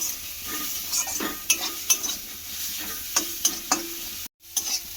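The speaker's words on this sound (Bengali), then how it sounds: "দিয়ে এবারে খুব ভালো করে মিশিয়ে নেব" A spoon stirs an egg filling seasoned with turmeric and salt in a pan, scraping and tapping in light irregular strokes over a soft sizzle, close and fairly quiet, with a brief gap near the end.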